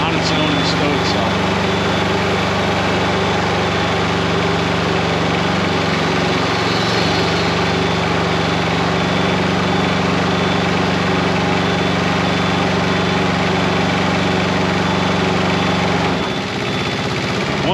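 A CMC 75L 75 ft compact tracked spider lift runs its engine at a steady idle-like drone while the machine automatically stows itself. The sound is loud and continuous and drops off near the end as the functions stop.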